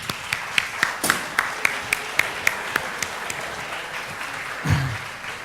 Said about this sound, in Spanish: Un aplauso para estos dos voluntarios.